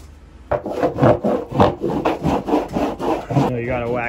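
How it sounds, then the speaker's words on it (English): Wax is rubbed with brisk, rhythmic back-and-forth strokes over a freshly shaped surfboard, about a dozen close, loud scrubbing passes, no talk. "You gotta wax it right up to the nose so everyone can tell that you throw fat air"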